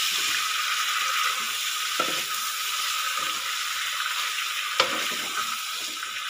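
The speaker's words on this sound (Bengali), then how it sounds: "এই চিকেনটা আমি এখন 10 মিনিট ধরে এরমভাবে কষতে থাকবো।" Chicken pieces being stir-fried in a pan for a home-style pepper chicken, with a constant close sizzle and a few sharp scrapes or clinks from stirring; no voices.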